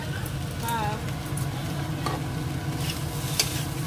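Small potatoes for aloo dum sauté in a pan, giving a dense, steady sizzle with scraping stirs and soft clatter, while faint background voices sit underneath.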